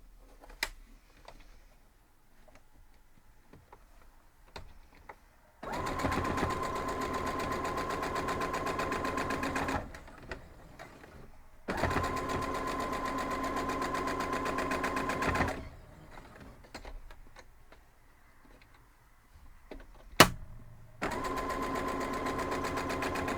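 A sewing machine joins fabric pieces in three long steady humming runs of several seconds each, with quiet handling clicks and fabric rustle in the pauses between, close by and with no talking.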